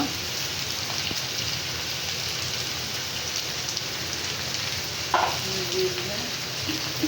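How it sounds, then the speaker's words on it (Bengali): Chopped garlic frying in a pan, a steady close hiss and sizzle like light rain throughout, with a brief clatter near the end. "রসুন কুচি দিয়ে দিব দিয়ে দিব"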